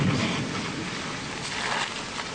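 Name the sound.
wind blowing during tornado chase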